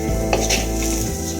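Carrot, beans and cabbage are sautéed in a pan, with a steady sizzle under soft scraping and light metallic knocks from stirring, heard close and continuous.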